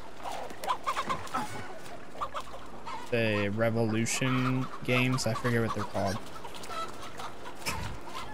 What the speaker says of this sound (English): Being chased by chicken.